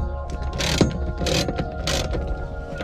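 Ratchet clicking steadily as a bolt is removed and replaced during a Takata racing harness install in a car, with repeated bursts of close, sharp pawl clicks and no talk.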